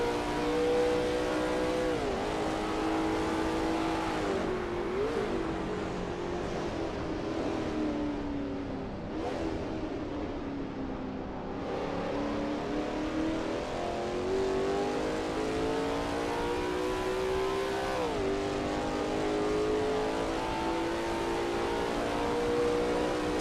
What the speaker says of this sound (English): That ASRL T70 MkII Spyder looks good driving through Le Mans curve.